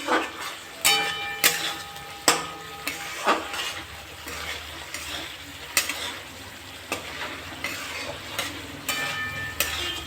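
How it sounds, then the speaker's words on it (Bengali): Spice paste with tomato fries in a pan for a vegetarian potato curry, a steady close sizzle broken by repeated sharp scrapes of a spoon stirring against the metal, with no voices. "এবারে ভালোভাবে মশলাটা কষে নিতে হবে যাতে মশলার গন্ধ না থাকে টমেটোর গন্ধটা না আসে"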